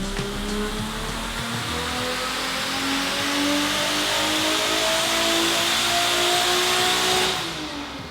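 A turbocharged Toyota Supra running on a dyno at 10 psi of boost, its engine revving steadily upward in one long, loud pull with rising tone, then dropping off sharply near the end.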